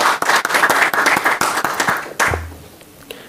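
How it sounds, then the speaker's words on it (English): Audience at an awards ceremony claps for about two seconds, the clapping dense and close, then breaking off abruptly into near silence with a low hum. "So we give a clap to Hykel"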